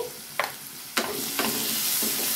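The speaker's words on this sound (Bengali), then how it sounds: "এই আলুগুলোকে ভেজে নেব।" Potatoes frying in a generous amount of oil with turmeric, a steady close sizzle broken by a few sharp stirring scrapes and clinks.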